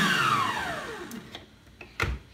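An electric mixer beating buttery cake batter, a whirring motor that quickly winds down in pitch and stops, followed by a few light knocks.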